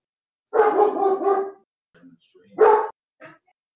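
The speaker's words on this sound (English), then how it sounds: "Your dog's barking." A pet dog barks in a short burst of several barks, then again after a pause, fairly close and loud, with faint softer yips in between.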